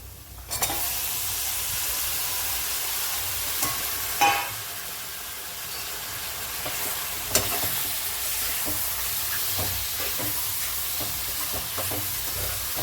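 Mutton frying in a pan, a steady sizzle with occasional scraping stirs and a louder splash of hiss as the meat goes in, no talking.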